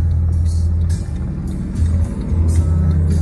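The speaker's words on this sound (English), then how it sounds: "Truck in front of us with a diesel exhaust tip." A diesel truck drives just ahead on the road, its low, steady engine and exhaust rumble continuous and close, with broad road and wind noise over the whole stretch.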